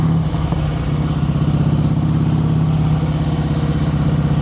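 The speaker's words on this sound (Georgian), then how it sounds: "ძრავსაც იმხელა ხმა აქვს." A Harley-Davidson Heritage Softail motorcycle engine rumbles steadily and loudly up close while riding on an uneven road, a continuous low drone with no pauses.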